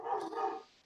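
A dog barks in a drawn-out, slightly muffled way from somewhere nearby, a couple of connected yelps fading out under a quiet indoor background.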